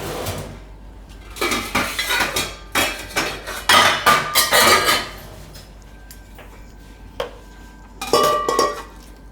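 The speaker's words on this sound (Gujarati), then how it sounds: "બીજા વાસણમાં કાઢી દઉં." Metal pots and utensils clank and scrape in a rapid series of knocks as food is transferred into another pot, then a few scattered clinks after a pause.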